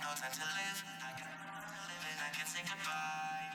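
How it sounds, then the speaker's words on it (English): Talkbox synth, a keyboard tone shaped through the mouth into vowel-like, voice-like sustained notes with shifting formants, faint and continuous over a short passage. "a talkbox is a tube that you put in your mouth and you play a keyboard"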